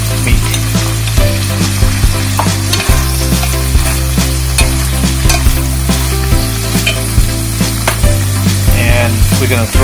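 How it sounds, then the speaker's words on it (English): Pork belly meat sizzles loudly while being stirred in a pan with shrimp, a steady dense frying hiss with frequent scraping and clinking stirring strokes throughout. "Now we're adding the pork belly meat."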